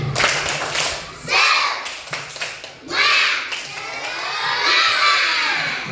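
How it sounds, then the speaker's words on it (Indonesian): Schoolchildren in a primary school art class perform a rhythmic group clap, bursts of clapping mixed with shouting and cheering voices rising and falling in waves. "Oke yuk, tepuk semangat."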